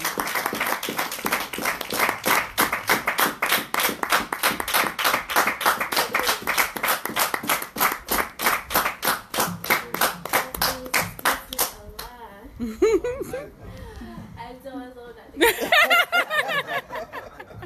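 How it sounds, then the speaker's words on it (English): An audience claps warmly to welcome someone speaker to the rostrum, with dense steady applause that thins into scattered claps and light murmuring before a final burst. "Help me bring her to this rostrum with a warm round of applause, Sister Mecca Muhammad."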